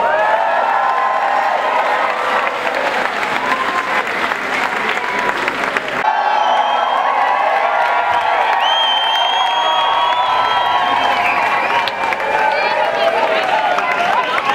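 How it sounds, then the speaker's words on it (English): An audience applauds and cheers for Simo Lagnawi, a Moroccan Gnawa performer, at a live show: loud, sustained clapping with whoops and crowd noise throughout, close and dense. "please give a big round of applause for Simo and Lagnawi"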